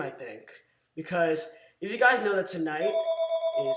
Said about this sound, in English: That's just the phone.